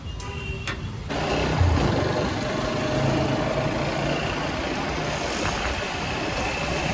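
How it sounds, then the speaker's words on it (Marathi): Street traffic at a busy market corner junction on a market day, with a steady rumble of idling engines and vehicles that swells after a quiet opening second and holds loud and continuous. "बाजारामुळे ट्रॅफिक लागले वाटतं"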